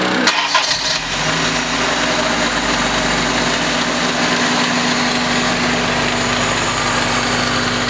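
A Toyota Corolla with a 4AFE engine cranks briefly and fires up after a regulator replacement, then settles into a loud, steady idle close by, with no talking.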